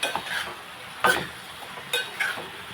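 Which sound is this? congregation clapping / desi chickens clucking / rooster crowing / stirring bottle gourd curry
stirring bottle gourd curry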